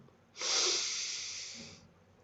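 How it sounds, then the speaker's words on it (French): During a guided breathing exercise, a single long, deep breath is drawn, close and airy with a soft hiss, rising quickly and then fading out over about a second and a half. "on va prendre 3 grandes respirations"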